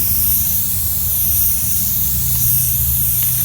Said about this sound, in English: I get more paint out of the nozzle when I keep my finger on the trigger.